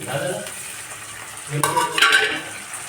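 Tomato dropped into a hot frying pan in a home kitchen, a soft sizzle with spoon scraping and stirring, brief metallic clinks near the end, close and clear.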